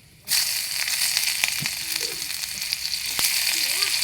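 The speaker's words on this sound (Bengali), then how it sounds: "কড়াতে আমি দিয়ে দিয়েছি তেল, এবার দিয়ে দেবো পেঁয়াজ" Onions dropped into hot oil in a kadai burst into a sudden loud sizzle that settles into steady crackling frying, with a few sharp pops and stirring clicks.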